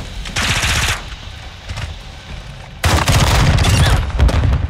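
Rapid automatic fire from a Glock 18 in a shooting video game, two loud bursts of dense rattling shots separated by a short lull, close and punchy.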